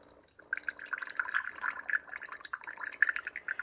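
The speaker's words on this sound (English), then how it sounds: "I'm going to hit the shot button. And it's only going to run 2 ounces of water through that reusable K-cup" A Keurig K-Latte single-serve coffee maker runs a 2-ounce shot of water through a reusable K-cup, giving a quiet, steady trickle and drip of liquid with a faint gurgle, heard alone.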